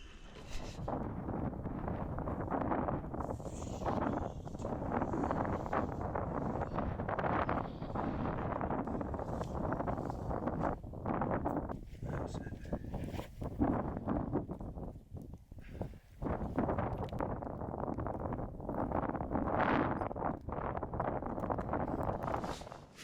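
Cold wind buffeting outside a tent in a snowy glen, a constant low rushing roar with gusty swells and dips, fairly faint and steady over the whole stretch, no voices.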